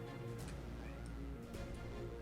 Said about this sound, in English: Meow meow. I'm sorry, kitty.